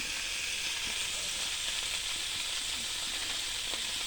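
Fish frying in a pan hisses as a dense, even sizzle that holds steady throughout, with faint low clatter underneath and no voices.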